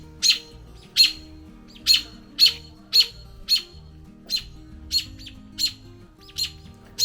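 Parent birds call in alarm near their nest of young chicks, a series of about a dozen sharp, high chirps spaced roughly every half second, loud and close with no voices.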